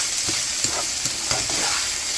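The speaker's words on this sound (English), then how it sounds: "2 more tablespoons of butter. I have been laying it flat on high, so we're going to stir that." Fried rice sizzles in butter on high heat while a utensil stirs and scrapes through it in a few quick strokes over a constant crackling hiss.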